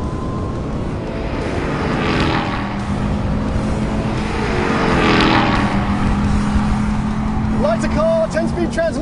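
A Ford Raptor R and a Ram TRX pickup accelerate hard side by side in a roll race on tarmac, loud engine roar rising in two surges with gear changes, wind noise over the top.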